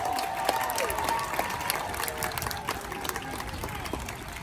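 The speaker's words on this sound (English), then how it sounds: "let's give one last big round of applause for Erie and Pickles" An audience claps for the sea lions Erie and Pickles at the New York Aquarium show in Coney Island, steady outdoor applause with a few cheers and an announcer's voice over it.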